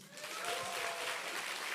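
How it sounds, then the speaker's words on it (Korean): Church congregation applauding during a Sunday worship service sermon, a soft, steady wash of many hands clapping at a distance, fairly quiet and continuous. "자 격려의 박수 한번 하세요"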